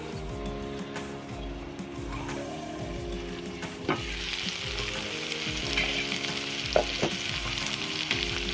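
Gongura leaves and other ingredients sizzling steadily in a pan for a homemade chutney, with scraping stirs and utensil clicks, close and continuous with no talk.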